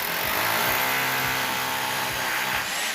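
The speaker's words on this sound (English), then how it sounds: "We got drilling going on over there." A power drill runs during a kitchen renovation, a steady, loud mechanical whine over rhythmic low thumps, close by and with no pauses.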